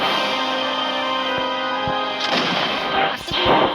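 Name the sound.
musket gunshot from video game Muskets of America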